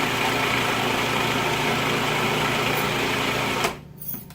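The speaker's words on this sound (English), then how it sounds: "And then we're going to turn on the food processor and do it, mix it and puree it until it's like a paste" A food processor whirs steadily as it purees a nut-based cheese ball mixture into a smooth paste, a loud continuous motor drone that cuts off abruptly near the end, leaving brief quieter handling noise.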